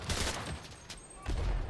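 Mortar fire in the World War II shooter Enlisted, heavy booming blasts and crackling gunfire at a moderate distance, with two louder thumps around a quieter stretch.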